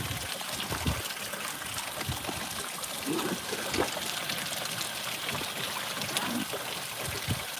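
On a farm during morning chores, water runs steadily from a garden hose propped up to ease pressure, a continuous trickling gush nearby with occasional splashes and knocks.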